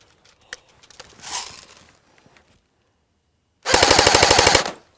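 A short full-auto burst from a Cybergun AK47 airsoft electric rifle on an 8.4 volt battery: rapid, evenly spaced mechanical shots, loud and close, following scattered handling clicks and a brief rustle, then cutting off sharply.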